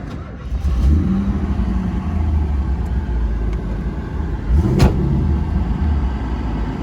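A 1984 Mercedes-Benz 500SEC with an AMG-tuned V8 idles with a deep rumble, then revs sharply once near the end, rising and falling in pitch.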